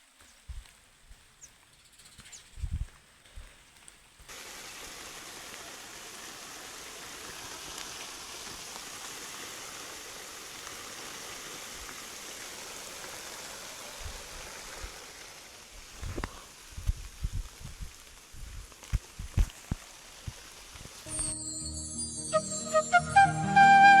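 After a few quiet seconds with scattered thumps, a soft, steady rain hiss sets in, with more knocks and clatter building toward the end.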